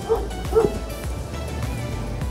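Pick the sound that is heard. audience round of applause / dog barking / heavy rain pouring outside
dog barking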